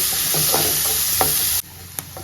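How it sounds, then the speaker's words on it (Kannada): Onion frying with garam masala in hot oil, a steady close sizzle with a few stirring scrapes that cuts sharply quieter partway through, leaving a faint hiss and an occasional clink. "ಗರಂ ಮಸಾಲ ಆ್ಯಂಡ್ ಒಂಚೂರು ಈರುಳ್ಳಿ. ಇವಾಗ ಇದೆಲ್ಲ ಚೆನ್ನಾಗಿ ಫ್ರೈ ಆಗಲಿ"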